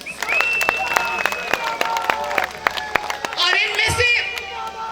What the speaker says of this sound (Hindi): इसके लिए भी तालियां प्लीज